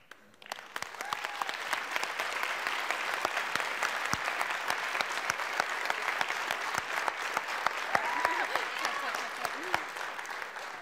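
An audience at a high school musical gives parents and alumni a long round of applause, a full, sustained clatter of many hands with sharp claps and a few brief voices mixed in.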